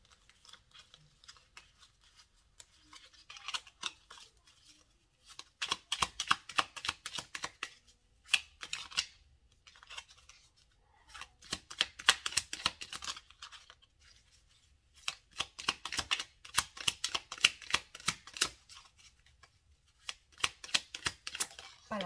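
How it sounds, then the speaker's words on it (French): Tarot cards are shuffled and drawn from a deck in close, crisp bursts of riffling and flicking, separated by short quiet pauses. "je vais vous tirer une carte pour voir quel est le message de votre autre aujourd'hui"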